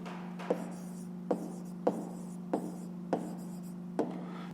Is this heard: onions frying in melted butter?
no